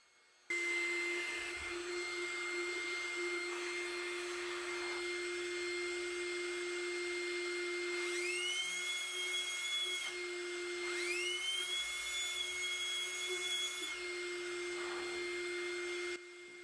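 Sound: Bosch EasyInflate 18V-500 cordless air pump running

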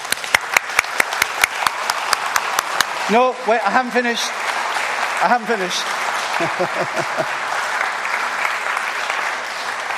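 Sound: applause

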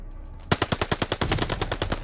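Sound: MP 40 SMG gunfire in video game Call of Duty Vanguard

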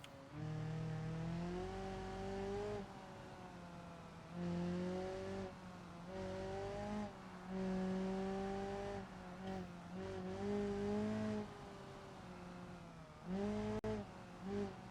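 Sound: Moskvich car engine running, video game

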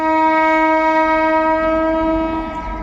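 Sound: train entering Azimganj Junction railway station

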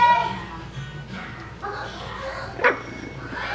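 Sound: puppies yipping while playing

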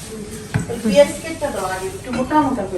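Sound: taking the pot of lentils (dal) off the stove

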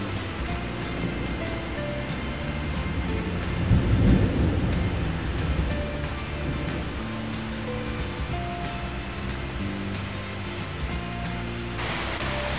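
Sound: heavy rain and thunder, thunderstorm in a gorge

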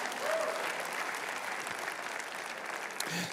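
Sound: church congregation clapping hands

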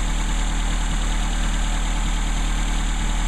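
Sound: car engine idling with Aisan carburetor vacuum secondary mod

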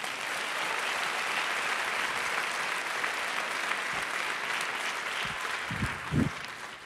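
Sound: church congregation applause

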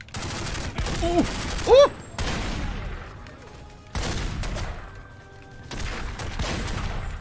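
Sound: Tommy gun firing in The Godfather video game

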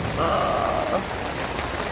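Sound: rain

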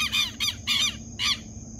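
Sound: birds singing by the Tocantins River

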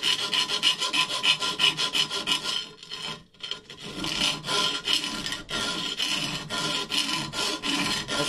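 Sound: hand file filing sharp edges of aluminum clutch cover

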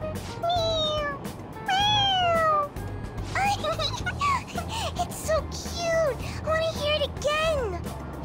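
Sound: toy cat meowing when its head is pressed, from video game Persona 5 Royal

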